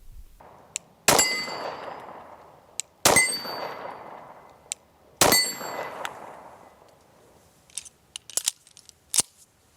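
Three loud, sharp metallic clangs ring out from bullets hitting a large steel shooting target, each ringing down over about two seconds, followed by several smaller clinks and rattles as the target breaks and falls apart.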